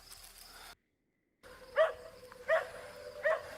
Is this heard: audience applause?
no